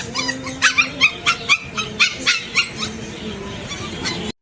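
A puppy at a pet shop in Kadapa barks and yips in a quick series of sharp, close, fairly loud bursts, with some whimpering between them and background room noise.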